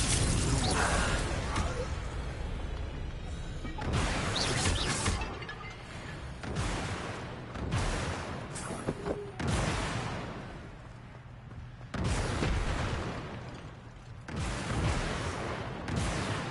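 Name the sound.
Incendio and Confringo spells cast in a video game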